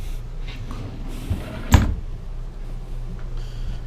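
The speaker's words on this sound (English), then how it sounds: "these big drawers pull all the way out" Large under-dinette storage drawers in a 2014 Coachmen Mirada 34BH RV slide out, giving a single firm thump and rattle over quiet room tone.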